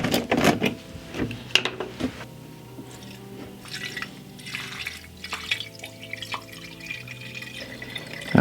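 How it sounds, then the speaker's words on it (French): Distilled water poured into the cooling system of an Alfa Romeo MiTo, gurgling and dripping at close range with uneven splashes and a low hollow glug as the liquid fills the reservoir. "Je vais mettre de l'eau distillée dans le circuit de refroidissement."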